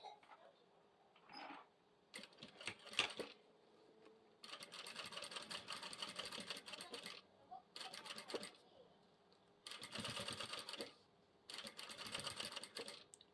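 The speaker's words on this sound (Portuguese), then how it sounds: "agora eu vou fazer a costura aqui do outro lado." Sewing machine stitching a strap for a toiletry bag, running in several rapid mechanical bursts separated by short pauses, close and fairly quiet, with a soft voice heard faintly at times.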